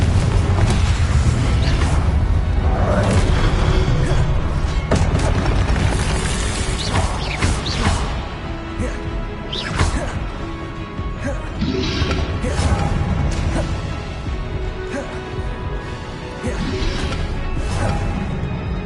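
Confringo and Incendio spell blasts in Hogwarts Legacy boom and crash in a loud, continuous barrage, with whooshing bursts and heavy impacts layered over a rumbling low-end roar.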